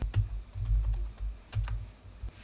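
Fingers type a package name on a computer keyboard, producing a quick run of soft, close key clicks in small bursts with short pauses between them.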